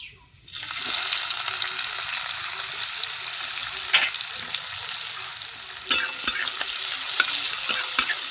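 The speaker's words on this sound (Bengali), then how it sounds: "পেঁয়াজটা আমি একটু লাল লাল করে ভাজবো" Onions sizzle steadily in a hot pan during cooking of a bamboo-shoot dish, a continuous close frying hiss broken by occasional stirring clicks, with no talking.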